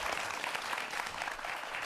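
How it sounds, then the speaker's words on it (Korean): Audience applause for two guests, a medical school professor and a pharmacy professor, at the close of a Korean television lecture, steady dense clapping filling the room for about two seconds. "두 분에게 박수 부탁드리겠습니다"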